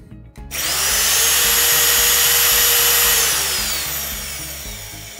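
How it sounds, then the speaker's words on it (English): A RotoBrute magnetic drill press with an electromagnetic base runs up to a loud, steady motor whine that holds for several seconds, then begins to ease slightly toward the end, with no voices. "Once the magnet is on, you can start your motor."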